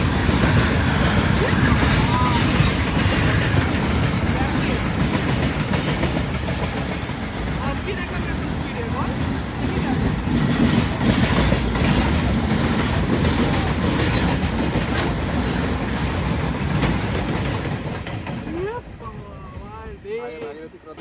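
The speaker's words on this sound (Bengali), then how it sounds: "ফ্রাইট ট্রেনটার স্পিড খেয়াল করেছেন 80 কিলোমিটার/আওয়ার।" A freight train rushing past at about 80 km/h, a loud continuous rumble and rattle of wagons with clattering wheels, heard from a moving express train; a voice speaks over the noise.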